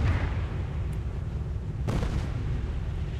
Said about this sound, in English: Somebody got strafed on the runway